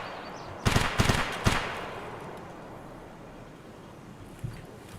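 Gunfire in the shooter game Escape from Tarkov: a quick burst of three or four loud cracks in the first half, each trailing into a fading echo, then one faint distant pop near the end.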